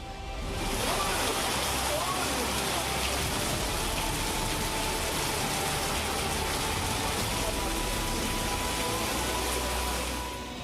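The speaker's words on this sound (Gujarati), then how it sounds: "અરવલ્લીમાં આફતના વરસાદના જુઓ આ દ્રશ્યો" A heavy monsoon downpour in Aravalli, Gujarat, roars steadily and loudly throughout, a dense, unbroken wash of rain.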